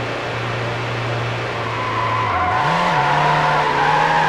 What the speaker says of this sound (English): Okay, you can drift.